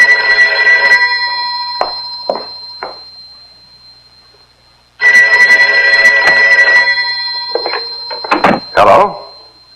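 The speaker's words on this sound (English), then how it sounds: "The phone. Well, you answer it." Telephone bell ringing in a home, two long bursts of ringing separated by a pause, fairly loud and close, with people talking briefly between and after the rings.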